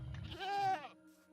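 A single short bleat from a goat in Minecraft, a nasal wavering cry that rises and then cuts off, fairly quiet and isolated.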